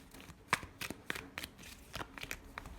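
Tarot cards shuffled and pulled from the deck during a love reading, heard as a run of crisp, close riffling snaps and papery flicks in uneven bursts.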